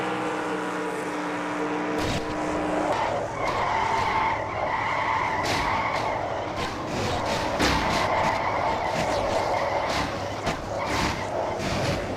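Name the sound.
car crash with tires skidding in a video game race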